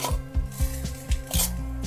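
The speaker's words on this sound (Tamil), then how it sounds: "அந்த சாதத்தை சேர்த்து நம்ம கிளற வேண்டியது தான்." A spoon scrapes and knocks in quick, repeated strokes against a pan as cooked rice is stirred into sautéed cabbage, close and fairly loud.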